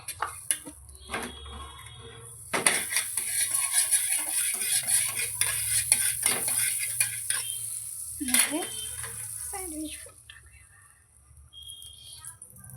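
Sandwich toasting in a hot pan at home, with soft sizzling and intermittent scraping and clinks of a utensil against the pan, while a person talks over it.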